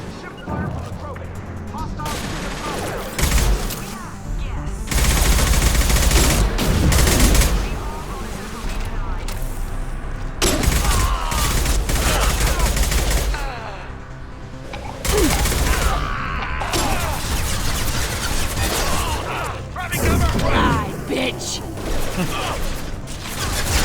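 Bursts of rapid gunfire and weapon mechanisms from the PC game Mass Effect 2, loud and dense in repeated volleys with short gaps, mixed with game effects, and someone talking over parts of the action.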